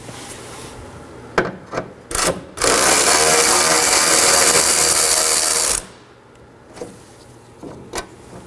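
A 10mm bolt is worked out of a 2013–2019 Nissan Sentra headlight assembly: a few sharp clicks, then about three seconds of loud, continuous rasping whir close by, followed by quieter scattered taps.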